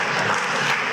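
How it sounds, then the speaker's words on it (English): Conference audience at a cultural and creative industries event in Grenada clapping, a dense steady wash of applause filling the whole moment at moderate loudness, with no voices standing out. "Oh yeah, I heard the clap."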